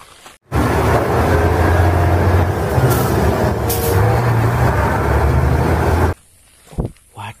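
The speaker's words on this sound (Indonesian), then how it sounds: "Ada truk pasir lewat." A sand truck passes close by with a loud, steady roar of engine and road noise lasting several seconds, then cuts off abruptly.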